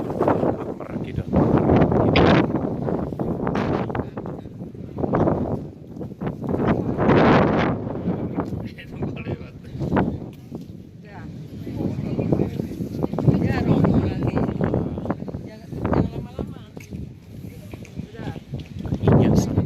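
Strong gusting wind buffets the microphone on the summit of Mount Tabor, roaring in uneven surges throughout while a person talks over it.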